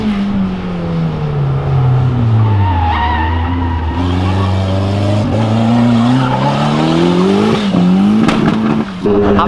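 A Chevrolet Onix 1.0 from a performance shop skids and accelerates, its engine rising and falling in pitch under long, loud tire squeal. The sound is close and sustained, with a sharp break near the end.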